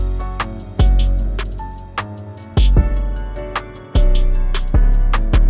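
An AI-generated hip-hop beat, with loud deep 808 bass hits landing every second or so under bright sustained synth chords and crisp hi-hats, playing alone at full volume.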